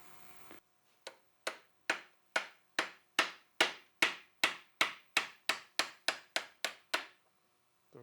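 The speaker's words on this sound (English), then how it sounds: "This is just a simple press with sockets to just push them out." Bearings pressed out of a Porsche G50 transaxle with a simple press and sockets: a run of about fifteen sharp, evenly spaced metallic knocks, close and loud, that quicken slightly toward the end, with no talking.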